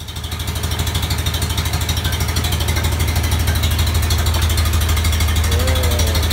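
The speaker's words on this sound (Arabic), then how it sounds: "الحمد لله الموتور خدم بعدا." A motor near a cold river runs with a steady rhythmic idle, its loud low pulsing throb building briefly at the start and then holding even and close, with no voices.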